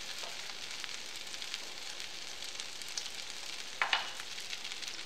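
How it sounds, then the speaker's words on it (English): Vegetables sear in duck grease in a hot pan, giving a steady close hiss and crackle throughout, with a few sharper pops near the end and no talk. "And then we're gonna drop our vegetables and sear that off and cook it down for a little while."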